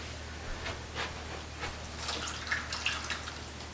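Water poured from above onto a celery seed tray sitting on a warming mat, giving soft, scattered drips and light splashes at a low, even level with no talking.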